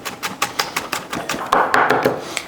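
A knife dices jalapeno peppers on a cutting board in quick, sharp rhythmic chops, about a dozen close, loud knocks in a steady run.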